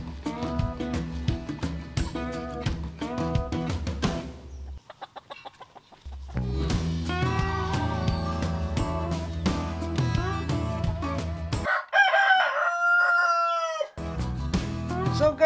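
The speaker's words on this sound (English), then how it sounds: "this is our breeding pen, and you will observe that each of this pen is already very empty. Actually, we only have here the roosters" Several roosters crowing repeatedly in a breeding coop on a free-range farm, loud and close, with overlapping crows and clucks in quick succession and a brief lull partway through.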